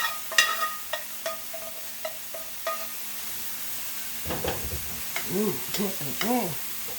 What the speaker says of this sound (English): push it over to the side and add my cauliflower rice back to the pan now